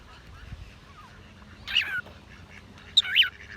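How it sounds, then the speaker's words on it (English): Ducks quacking at a park, two short harsh bursts at moderate distance over quiet outdoor background, heard while a pet cockatiel is out in a harness. "Do you hear some ducks?"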